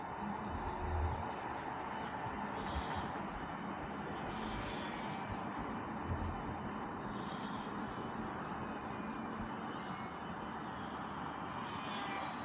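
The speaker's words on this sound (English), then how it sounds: "Very pleasantly low noised motor and prop on this plane." A small electric model airplane motor and propeller, an E-Flite Micro Draco, drone steadily at a distance, a faint continuous whine over low outdoor rumble.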